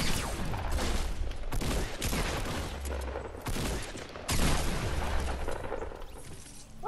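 Rapid bursts of gunfire from a Fortnite match ring out in several sharp volleys, loud and close, with brief pauses between clusters and no talk over them.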